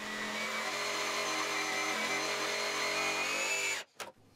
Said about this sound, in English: clamped it down, and cut it in half with my jigsaw